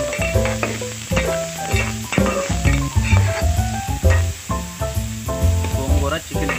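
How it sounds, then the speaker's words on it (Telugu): Thinly sliced onions and green chillies frying in a pan, a sizzling crackle with some stirring, heard under prominent music. "ఉల్లిపాయ పచ్చిమిర్చి మీద వేస్తే వేస్తాం కింద వేగుతూ ఉంటుంది"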